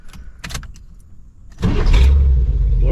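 A 1987 GMC Suburban fitted with an Evil Energy carburetor starts at operating temperature: a few light clicks and rattles, then the engine catches and settles into a loud, steady, close rumbling idle.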